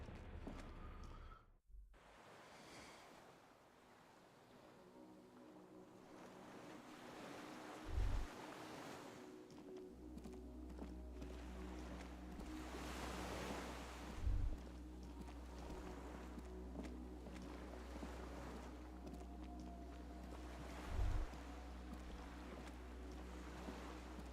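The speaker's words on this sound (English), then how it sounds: "The skiff is swaying on the waves." Ocean waves wash around a small wooden skiff swaying on open water in Disco Elysium, a soft continuous surge with wind, faint creaks and slow swells under a low ambient drone, with three dull low thumps spaced apart.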